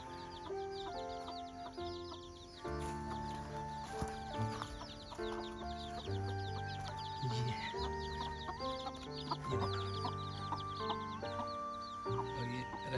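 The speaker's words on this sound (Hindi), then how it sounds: "और ये अभी खुद बाहर ले आई है इन चूज़ों को।" A hen clucks steadily among her peeping chicks on a rainy monsoon farm in Dharamshala, Himachal, the soft clucks and high chick chirps running continuously and close by with no talking.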